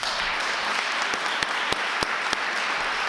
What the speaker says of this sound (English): You deserve a round of applause as well.